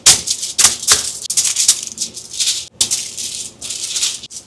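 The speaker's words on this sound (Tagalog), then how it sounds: "Balot naman natin yung sa foil." Aluminium foil crinkling and rattling as an embutido pork roll is wrapped by hand, loud crisp bursts in an uneven rhythm, close up with no talking.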